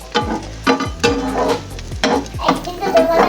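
Roti roll cooking in a little oil in a pan: a steady rhythm of about six scraping, clattering strokes of a utensil against the pan, close and fairly loud, with a faint sizzle beneath.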